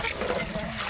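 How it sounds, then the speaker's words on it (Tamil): Hot water being poured into a pot of rice and chicken for biryani in a home kitchen, a brief continuous splashing trickle. "வெந்நீர் ஊற்றிட்டோம்ல ராஜா"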